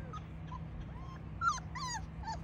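Saint Bernard puppies whimper close by, a series of short, high, wavering whines and yips that come in a loose irregular rhythm, with one louder cry in the middle.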